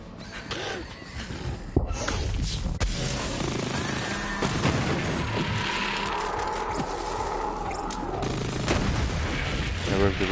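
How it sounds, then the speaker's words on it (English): Gunfire in the video game Borderlands 3, with a bullet ricochet among the shots: sharp bursts and booms over a steady mechanical rumble, with a voice talking over parts of it. "There was the ricochet."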